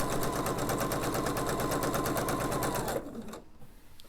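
A sewing machine chain-piecing quilt blocks with medium gray Aurifil 2600 thread runs in a fast, steady stitching rhythm, loud and close, then stops abruptly near the end, leaving faint handling noise.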